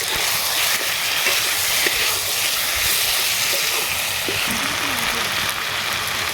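Fried potato, papaya and mango cook with spices in a pan for a sour rohu fish curry. A loud, continuous hissing sizzle fills the clip without a break.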